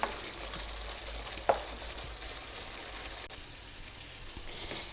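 Masala for a fried egg curry frying in a pan, giving a low, even sizzle that runs throughout, with one sharp clink of a utensil near the start and no talking.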